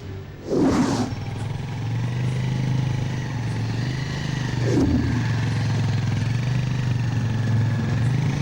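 A motor vehicle engine runs steadily and fairly close throughout, with a low droning roar and two brief louder bursts near the start and middle.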